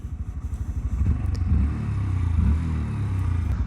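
A Honda Grom MSX125 motorcycle engine close by, its single-cylinder exhaust chugging at idle, then revving up into a louder, steady drone.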